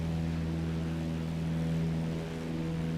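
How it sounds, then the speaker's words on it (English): Simulated light aircraft piston engine droning steadily with a strong low hum in a flight simulator, sustained and close, its pitch easing slightly as RPM drops with carb heat pulled. "when you pull the carb heat, like, you know, you hear actually the engine RPM dropping"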